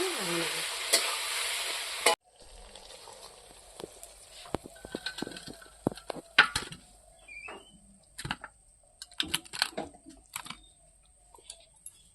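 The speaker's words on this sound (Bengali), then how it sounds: "এখন আমি মশলাটা একটু ভাজা ভাজা করে" Ginger and garlic spice paste for chicken curry fries in a pan, starting with a loud sizzle. After that come sparse, sharp clicks and scrapes of stirring with a utensil, fairly close by.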